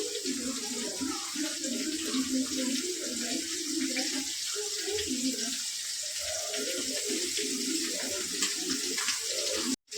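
Pomfret fish frying in hot oil, a steady, dense sizzle and crackle close by that runs without a break for several seconds before cutting off abruptly.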